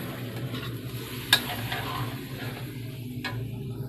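Beef being stir-fried for a Thai red curry with beef balls, a steady close sizzle with scraping stirs and one sharp utensil tick against the pan, no voices.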